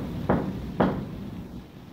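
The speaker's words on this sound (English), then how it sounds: "Knock on the wall," Two dull knocks on an indoor wall, spaced about half a second apart, sound close by against a steady low room hum.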